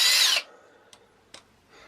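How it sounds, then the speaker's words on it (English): A power drill at a low speed setting bores through wood for a boat's stern ensign, a loud burst for about half a second that stops abruptly, followed by a couple of faint knocks. "we're just going to drill through"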